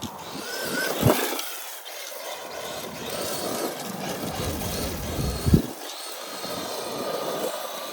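A Traxxas Maxx 4S RC car with steel driveshafts drifts, its electric motor whining and surging in waves with sharp tire scuffs and bursts near one and five and a half seconds, fairly close, no talking.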